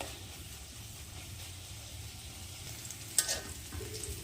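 Onions and green chilies frying in a pan, with a soft, steady sizzle at moderate distance and a brief clatter of a utensil near the end.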